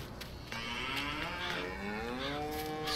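Cattle in the Farming Simulator 19 video game moo in a few drawn-out, overlapping calls over a steady low background, fairly close and clear.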